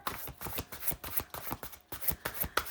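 A deck of oracle cards being shuffled by hand, close up: a quick run of crisp riffling flicks and soft slaps repeating steadily, with no voices.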